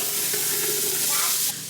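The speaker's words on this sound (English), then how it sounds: "I'm going to dump in the carrots and onions and just saute them for a bit" Carrots and onions sauté in hot olive oil in a pot, giving a steady close sizzle with faint stirring scrapes, dropping slightly quieter near the end.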